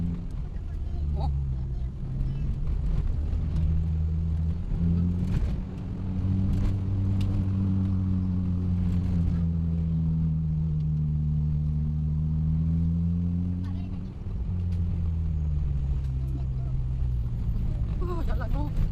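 An off-road car grinding along a rough dirt road, its engine droning in a low, rising and falling hum with bumps and rattles, while people talk inside.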